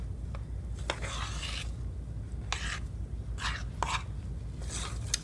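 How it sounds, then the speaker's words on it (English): A thick preacher cookie mixture being stirred in a pot, with repeated rough, gritty scraping strokes of a spoon against the pot in irregular bursts, close up under a steady low background hum. "I'm gonna stir it again. Trying not to flip it out and make a mess."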